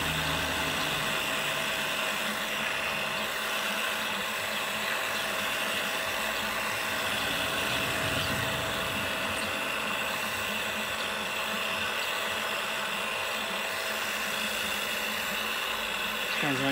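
A pump drawing engine oil out of a Mercedes SLK R170, a steady close mechanical whine and hum running unbroken for the whole stretch, no voices.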